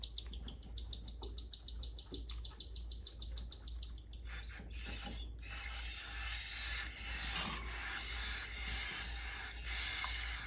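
Cockatiel chicks being fed inside a nest box give rapid, high, insistent chirps and buzzy begging calls that come in continuous bursts, close but fairly soft, with no voices over them.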